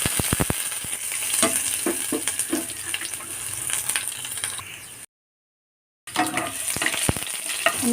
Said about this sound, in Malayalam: ഇതിലേക്ക് ഞാൻ ചെറുതായിട്ട് അരിഞ്ഞു വെച്ച വെളുത്തുള്ളി ഇട്ട് കൊടുക്കുന്നു.